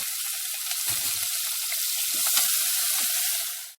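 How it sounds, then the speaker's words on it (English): Onion and curry leaves sautéing in a hot pan with oil, a dense continuous sizzle with a few soft stirring knocks, close and loud before cutting off abruptly. "After spluttering, add the onion. Saute it nicely."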